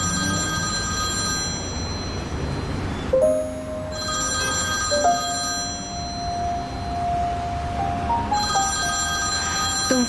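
A telephone bell rings loudly and steadily in a dramatic scene, its bright repeating trills broken by two short gaps, with no talking over it.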